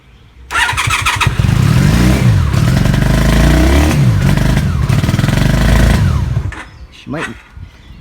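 A 1996 Honda Magna VF750C motorcycle starts on its first run after final assembly, catching with a loud roar, running rough and unsteady for about six seconds, then dying away to a few quieter sputters.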